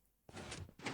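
A Minecraft piston door, fast-opening 3x4 hallway design, moves with a quick mechanical whoosh, then a second burst of piston movement a moment later, both fairly close and clear.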